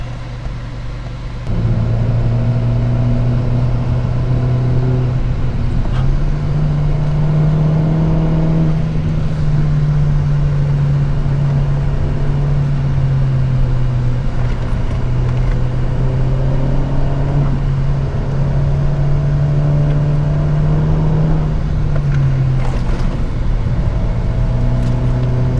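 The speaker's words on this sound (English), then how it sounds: "And here's more cars as I'm about to leave." A Honda Civic Type R's engine hums steadily at close range, its pitch rising and falling as the car drives on, with a faint whir of passing traffic.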